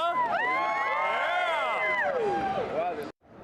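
A Comic-Con 2011 crowd in San Diego cheers and whoops for Pauly Shore, many voices overlapping in a loud, sustained roar that cuts off abruptly near the end.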